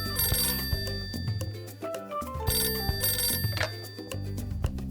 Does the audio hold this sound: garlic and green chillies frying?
no